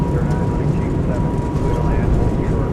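Airbus A220 jet engines spooling at takeoff power in a flight simulator, a steady, loud broadband roar with a faint whine that holds level throughout.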